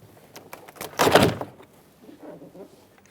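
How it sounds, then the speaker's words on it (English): Plastic door panel of a 2008-2010 Ford F-250 Super Duty being lifted off the door, a few light clicks and then one louder scraping pop as the clips release, heard up close with no talk. "you should be able to just grab the door panel, lift it straight up and out"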